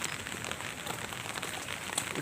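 Steady rain falls during a typhoon outside a small shop in the Philippines, a dense, even hiss of drops on surfaces running throughout with no clear talk.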